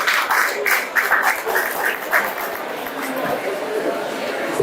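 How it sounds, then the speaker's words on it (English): A panel audience at a climate conference side event breaks into applause to welcome a traditional chief, a brief burst of clapping that quickly thins and fades under a murmuring room. "Please a round of applause."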